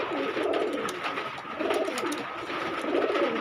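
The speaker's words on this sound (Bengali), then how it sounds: "একটা গোল্ডেন আর একটা কালশিরা নর, দুইটাই নর কবুতর" Male pigeons, a golden one and a dark one, coo in repeated low throaty rolls, close by and moderately loud, with faint chirps and rustling in the background.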